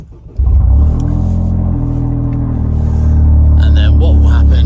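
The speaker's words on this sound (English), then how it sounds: "Just start the car now." A car engine starts with a brief cranking burst and then settles into a loud, steady idle rumble that carries on to the end, with faint higher sounds near the close.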